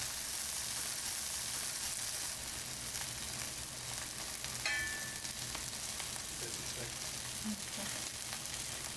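Skewers of rice cakes and mozzarella sticks sizzle steadily on a hot grill, a constant crackling fry that runs the whole time, close and moderately loud, with a brief clink partway through.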